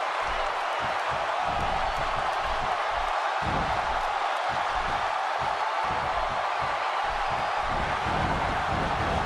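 Constant roar of a sold-out wrestling arena crowd in the WWE 2K16 video game, a dense, steady wash of cheering and noise throughout with no clear breaks.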